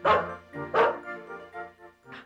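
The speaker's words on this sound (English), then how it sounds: "A dog? I didn't know we had a dog." A dog barks close by, two loud barks followed by softer yips and whimpers in a quick, uneven rhythm, with no talk.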